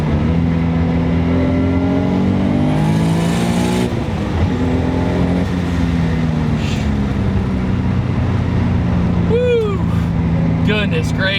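A 500 hp RB26DETT-swapped Nissan 300ZX Z32 pulling hard in second gear on the street, engine pitch sweeping upward in loud, close revs from inside the car, with a brief spooling whistle near the end.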